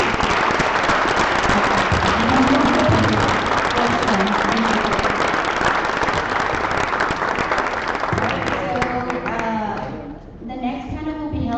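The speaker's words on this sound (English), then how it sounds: "Please join me in giving a huge round of applause for our fantastic panelists" Loud, dense applause from a conference audience for a panel discussion, sustained for several seconds before thinning out, with voices talking as it fades.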